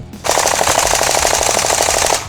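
VFC MK48 airsoft machine gun firing one sustained burst of rapid, evenly spaced mechanical shots, loud and close, about two seconds long, with no talk.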